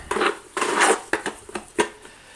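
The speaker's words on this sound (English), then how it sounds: "I've mixed my mortar already. I'm just going to give it a little mix" Tile mortar gets a brief remix with a trowel in a bucket, making scraping, slapping strokes followed by a few sharp clacks and taps.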